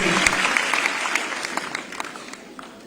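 An audience at a state-level International Women's Day ceremony in Jaipur applauds loudly, a dense crowd of clapping that gradually thins and fades over a few seconds.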